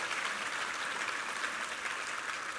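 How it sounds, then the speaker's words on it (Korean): A church congregation at a Korean Sunday service claps in a steady, even roar of applause that fills the hall and lasts the whole stretch. "우리 하나님께 감사와 영광의 박수 올려드리겠습니다."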